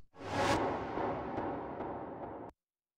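A swelling, rushing sound builds up and sustains with a smeared, backward feel, ending in a sudden cutoff into silence.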